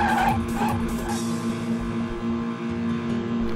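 Stock car racing in a video game set around an airport, with a steady engine drone and a continuous tire skid, loud and close throughout with no pauses.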